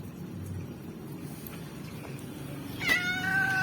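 A stray cat meows near the end, one clear rising call over low street background noise, after a quiet stretch.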